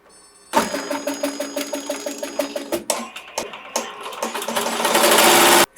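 An embroidery machine stitches a name in white thread onto a doll dress, running in a fast regular clatter of needle strikes that grows louder and denser toward the end before stopping.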